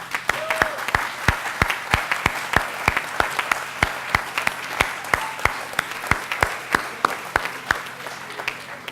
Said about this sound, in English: Please rise so we can give you a round of applause.